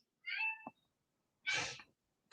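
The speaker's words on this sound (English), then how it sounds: "In case you're wondering, Amanda, I have a cat." A pet cat meows twice, close and clear: a first drawn-out, tonal meow, then a pause and a second, broader, slightly harsher meow, with quiet between them.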